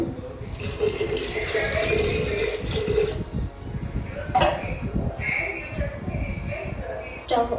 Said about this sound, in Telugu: వాటర్ యాడ్ చేస్తూ